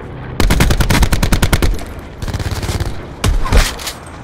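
Gunfire in the Blackout video game, a loud rapid burst of automatic shots, a pause, then a second slower string of shots and a final short burst.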